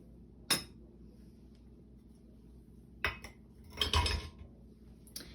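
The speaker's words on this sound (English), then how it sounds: "Then we're going to pour in our strawberries." Strawberries drop into a blender jar that already holds ice, giving a few separate close knocks and clinks spread apart by quiet gaps, with one cluster of rattling thuds in the middle.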